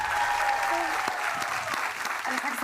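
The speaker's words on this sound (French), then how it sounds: "On applaudit donc Kaylee, Melissa et Kyle." Studio audience applauding on a French-dubbed reality competition finale set, steady dense clapping throughout with a faint voice underneath.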